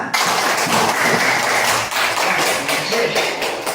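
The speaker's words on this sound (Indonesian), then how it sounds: "Iya, tepuk tangan" Schoolchildren in a madrasah classroom clap together in a dense, loud burst with tapping and thumping mixed in, sustained for several seconds before easing off slightly.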